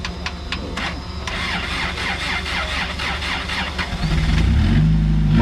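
An off-road car engine cranks with a rapid repeated churning, then catches and settles into a louder low idle after the vehicle has waded through water on a jungle trail.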